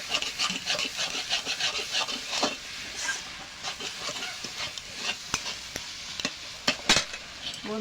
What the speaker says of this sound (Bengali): এভাবে কপিটা অনেক সময় ভাজতে হবে।